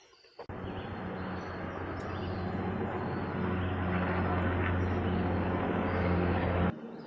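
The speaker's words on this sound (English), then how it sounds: "Helicopter?" A helicopter passes overhead on a remote hiking trail, a steady, fairly loud rotor and engine drone with a low throbbing hum that holds for several seconds and cuts off abruptly.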